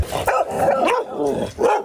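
Several dogs bark loudly and close at a dog rescue, a quick run of sharp, overlapping barks and yips that fills the short moment, with no talking over them.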